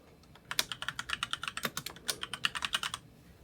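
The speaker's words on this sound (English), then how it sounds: "I type in my name in the sign off field" A name is typed on a computer keyboard: a quick, close run of crisp key clicks in an uneven rhythm, stopping after a few seconds.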